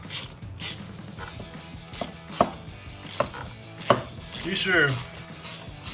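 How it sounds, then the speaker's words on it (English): Ratchet wrench tightening hose clamps on a Dodge Challenger cold air intake, with bursts of clicking ratchet strokes and a few sharp metallic snaps, close up, a brief voice in the background. "Start tightening up these clamps."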